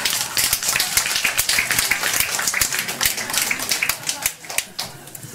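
An audience claps steadily throughout a gender equality policy meeting with presidential candidate Moon Jae-in, creating a dense, fairly close patter of many hands that thins out and fades near the end.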